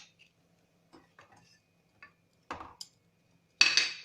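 Sugar and milk powder stirred together in a bowl for a no-bake chocolate cake, soft scattered scrapes and taps of a spoon against the dish, ending with a couple of sharper clinks close by.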